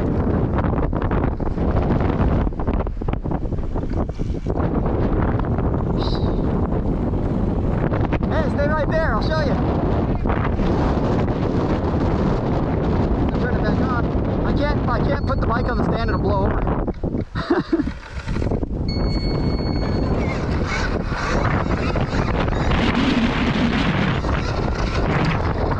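Heavy gusts batter an outdoor microphone on open rocky ground, producing a loud, rumbling roar that swells and dips throughout, with faint voices briefly poking through near the middle and end.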